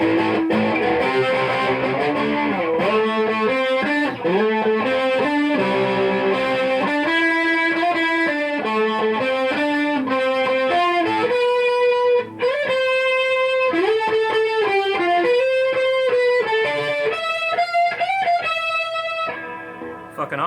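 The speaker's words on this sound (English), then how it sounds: "The chorus pedal with distortion is my favorite." An electric guitar played through a Boss Waza Craft chorus pedal with distortion sounds loud and close, running through a fuzzy, shimmering melodic phrase of sustained and bending notes with a brief break near the middle.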